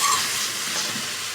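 Raw mango chutney sizzling as it roasts in a pan, a soft steady hiss of frying with faint stirring, alone and fairly quiet.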